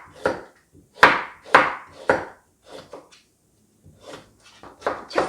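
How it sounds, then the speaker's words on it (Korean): A knife julienning a carrot on a cutting board: several loud, sharp chops in quick clusters with short pauses between, fairly close. "채 썰어 주시고요."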